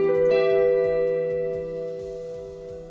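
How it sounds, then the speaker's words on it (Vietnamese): Casio CDP-135 digital piano with reverb and chorus effects, a single sustained chord struck once and left to ring, slowly fading with a shimmering tone. "Mình thêm một cái hiệu ứng reverb và truss vào thì nó sẽ thành một cái tiếng khác này."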